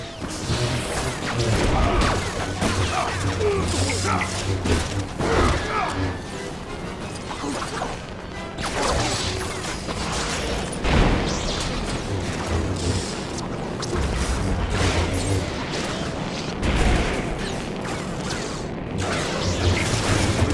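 Loud, continuous battle action from a Lego Star Wars: The Skywalker Saga fight, with fireworks and jetpack blasts amid dense crashes, whooshes and mechanical clatter, repeated booms and impacts throughout, no clear speech.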